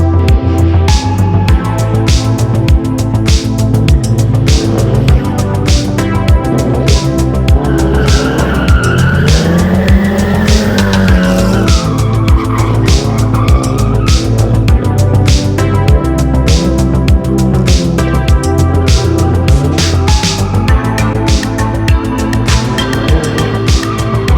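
Drift cars including a rear-wheel-drive K24-engined Civic, a CA18DET Nissan S14 and an RB25 S14 scream around a track in Portugal, engines revving hard with long continuous tire squeal, loud and close, no voices.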